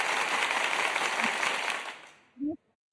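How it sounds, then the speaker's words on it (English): Talk show audience applause for a guest, a dense burst of clapping that fades out after about two seconds, followed by a brief voice and then silence. "We'll give her a double applause because I forgot to do it when I brought her on."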